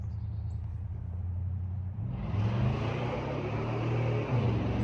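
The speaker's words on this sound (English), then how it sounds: "That's them Jones mufflers on them long tube headers, and it sounds amazing." A truck's 388 engine with Jones mufflers on long tube headers idles with a deep, steady low rumble, then grows louder and fuller as it revs up partway through.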